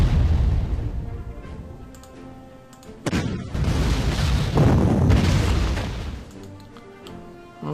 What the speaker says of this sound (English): Let's hit them with some artillery first